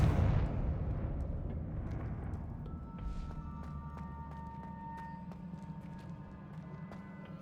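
A Confringo spell explosion in the video game Hogwarts Legacy opens with a loud, deep boom that decays into a long rumbling tail, followed by faint scattered crackles.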